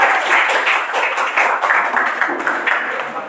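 Classroom applause for a student group after their presentation, a steady patter of many hands clapping together at moderate volume for a few seconds.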